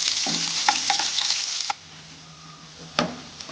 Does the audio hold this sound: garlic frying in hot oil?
yes